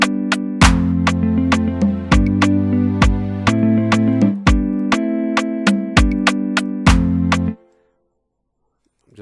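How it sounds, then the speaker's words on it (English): A clap sample in FL Studio plays within a looping beat: sharp, evenly spaced claps snap over a deep kick and tonal bass pattern for about seven seconds, then the beat stops dead. "I'll just bring in my clap sound like this."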